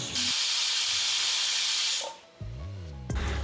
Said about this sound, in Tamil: மூணாவது விசிலும் வரப்போகுதுங்க